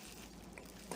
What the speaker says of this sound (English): I'm going to mix in the sugar, baking powder and salt with the flour.